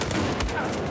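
Gunfire in an online shooter game, a dense burst of shots filling the whole second at steady loudness, with one sharper crack near the middle.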